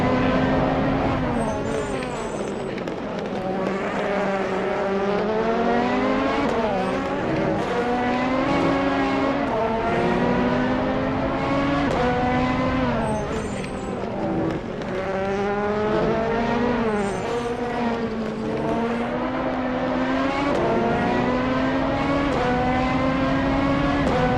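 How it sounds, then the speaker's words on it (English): Onboard a race car at the SUGO circuit in Japan, the engine screams loud and close, climbing through gears and dropping on downshifts in a repeating pattern, with commentary faintly underneath. "We're gonna go on board Hofumi right now"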